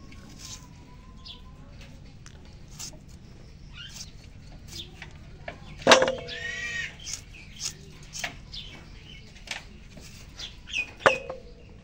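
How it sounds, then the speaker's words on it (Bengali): A chicken clucks a few times, two sharp loud calls standing out among softer scattered clucks and chirps in a quiet outdoor setting. "মুরগি ফিরে আবার"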